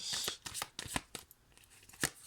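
Tarot cards being shuffled by hand for a reading, a series of crisp riffling bursts and soft slaps at an irregular pace, close and fairly quiet with no voices.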